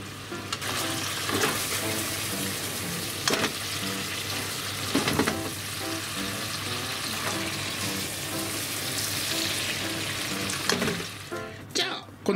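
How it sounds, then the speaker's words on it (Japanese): Pork shiso rolls wrapped around eggplant and king oyster mushroom sizzling in a pan with garlic butter and soy sauce, a loud continuous fry with occasional stirring scrapes and clinks, no talk. "火を強めて、でこのバターと醤油ちょっと焦げる感じのねバターと醤油に絡ませときます"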